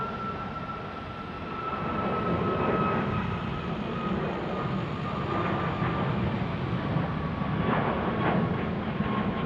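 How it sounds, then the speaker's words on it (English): A Southwest Boeing 737 Max 8 bound for Oakland rumbles past at an airport on a steady, broad roar that swells slightly after the first second and holds loud throughout, with a faint whine riding on top and no voices. "That is our Southwest flight to Oakland."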